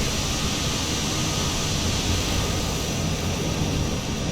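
The E121A1 aircraft engine in Microsoft Flight Simulator 2020 drones steadily and loudly at taxi power, a continuous broad roar with no speech over it.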